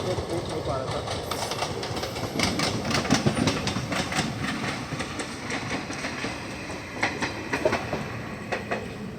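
An express train rolls past on a nearby line in India, a steady broadband rumble with faint clicking of wheels over rail joints, heard from alongside the track with speech-like murmur mixed in.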